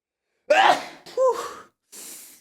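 A single close sneeze with a sharp wind-up and explosive release, followed by a short breathy exhale.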